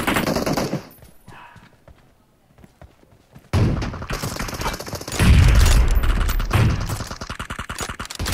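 Bursts of SCAR rifle fire in PUBG Mobile, loud rapid volleys that drop out for a few seconds, then return heavier with thuds, while players talk over the shooting.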